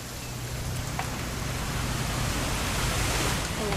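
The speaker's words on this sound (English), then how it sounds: "It's going to rain the whole weekend," Steady rain pours in a game scene of a family hunting weekend, a dense even hiss of falling water with a low rumble, constant and fairly loud with no voices.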